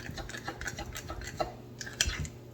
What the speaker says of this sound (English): But I'm gonna use some club soda. Just stir it in slowly.